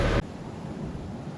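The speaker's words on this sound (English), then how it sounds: "Just so freaking windy" Strong wind buffeting outdoors at a fishing pond, a steady broadband roar of gusts against the microphone after a brief louder burst, with no talk.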